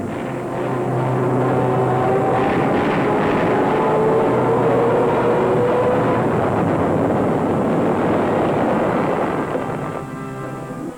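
Kamikaze suicide planes dive in on their targets in Second World War film footage, a loud sustained roar of engines and explosions with droning tones that rise and fall, filling the scene before fading slightly at the end.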